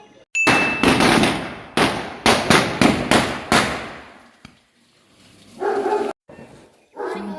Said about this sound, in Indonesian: sekarang kita mau main lagi petasan